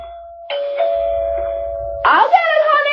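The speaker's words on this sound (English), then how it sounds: "Daddy was in the study when the doorbell rang" A doorbell chimes with a sustained steady tone, then a second brighter ring follows, with faint voices murmuring underneath.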